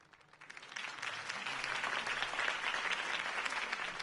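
Video game crowd applauding after Harvey Dent's campaign speech, clapping swelling from a faint start into a sustained, dense roar of many hands that stays steady to the end.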